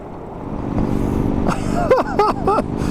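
A 2015 Victory High-Ball motorcycle rumbles at a low, steady idle up close as it is ridden, with faint creaks and scraping sounds over the engine.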